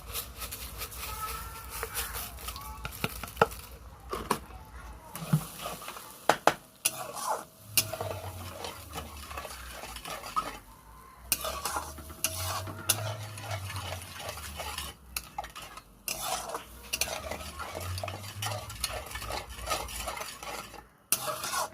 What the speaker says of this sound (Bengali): এটা গাঢ় হওয়া অবধি নাড়তে হবে।